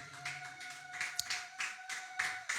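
A church congregation claps and applauds together, a dense run of sharp hand claps with bursts of louder clapping, fairly close and without talk over it.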